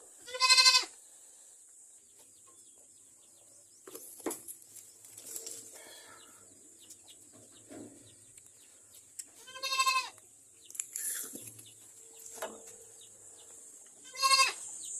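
Goats bleat during farm deworming, several loud harmonic calls near the start, middle and end, with quieter animal sounds and faint movement in between.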